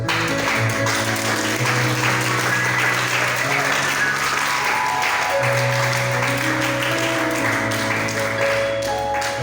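A church congregation applauding during a French-language worship service, dense sustained clapping filling the whole stretch with voices mixed in beneath.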